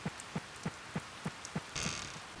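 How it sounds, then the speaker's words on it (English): Steady rain falls in the farming video game Harvest Moon: Save the Homeland, a soft, even hiss with a regular pattern of low, muffled thuds beneath it and a brief brighter swell near the end. "All you hear is the sound of rain, which is, sort of a nice, calming sort of sound"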